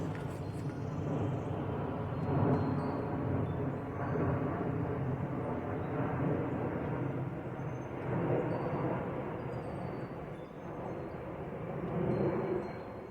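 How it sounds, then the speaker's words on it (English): A steady broadband roar of an airplane passing overhead, swelling and fading slightly over several seconds, with no talking. "Apparently they've changed the flight path and they're coming over me today."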